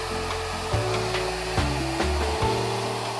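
A hair dryer fitted with a diffuser blows on curly hair, a continuous whirring hum broken by a few brief shifts and bumps as it is moved.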